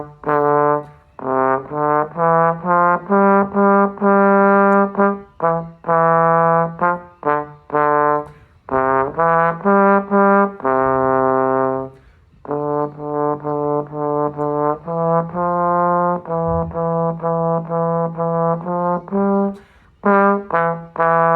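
Piano performance of the piece "Lightly Rose", a Step 5 technical repertoire song, played as a steady flowing melody with sustained chords and brief pauses between phrases, close and clear with no voices.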